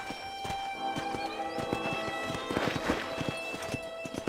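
A horse in the Red Dead Redemption video game clip-clops steadily at a walking pace, with repeated hoof hits, creaks and a faint whinny under music or ambience.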